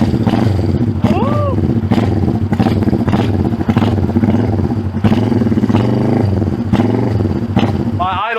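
A 1971 Honda CB350 motorcycle left sitting for about 50 years has its engine running close by, a steady rough thrum with uneven clattering pulses. Voices talk over it, and some brief whistling tones show up.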